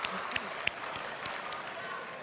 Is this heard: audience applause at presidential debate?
yes